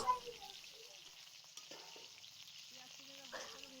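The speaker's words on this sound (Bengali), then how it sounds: "পেঁয়াজটা একটু ভালো করে ভেজে নেব" Chopped onions fry in oil in a wok over a wood stove, a faint soft sizzle with occasional stirring scrapes and a voice speaking over it.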